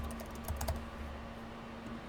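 Someone types a folder name on a computer keyboard: a short burst of soft, quick key clicks close by over a low steady hum, then quiet.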